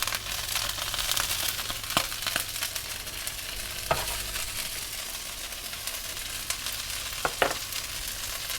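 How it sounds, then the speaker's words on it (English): Broccoli fries in a pan with a continuous soft sizzle and crackle, broken by a few sharp scrapes and clinks as it is stirred, close and alone with no talk. "Next up, I'm frying the broccoli until it's just a little bit golden."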